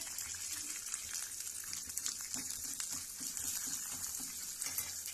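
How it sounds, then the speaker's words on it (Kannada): Cumin and fenugreek seeds frying in hot oil for a Mangalore-style cucumber sambar, giving a steady soft hiss and crackle with faint scattered pops throughout, no voices. "ಇದನ್ನು ಅದಕ್ಕೆ ಹಾಕಿ ಫ್ರೈ ಮಾಡೋಣ"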